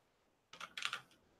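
A computer keyboard clacks in a short, quick burst of keystrokes after a moment of quiet, close and fairly soft, with no voices.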